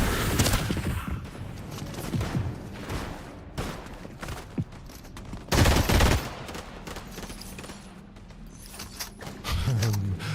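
Fortnite gunfire during a live event: irregular loud bursts of rapid shots and volleys, some clustered into heavy flurries, with quieter gaps between, no talking.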